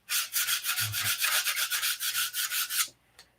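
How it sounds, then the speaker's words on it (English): Rough sanding on an aircraft skin, a rapid back-and-forth scrubbing in even strokes, loud and close, running steadily for nearly three seconds before stopping, with a brief faint scrape afterward. "This is rough sanding"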